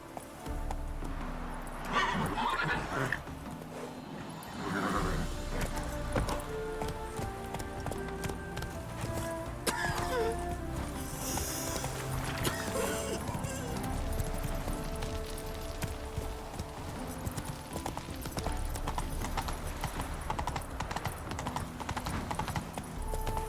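A galloping horse in The Witcher 3 video game, with a steady drumming of hooves across the whole stretch, loud and close, along with occasional whinnies and background game sounds.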